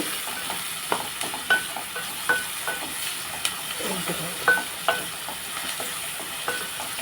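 Turmeric being stirred into a curry sizzling in a pan, with steady frying hiss and repeated soft scraping strokes of a spoon against the pan, close and clear with no talking.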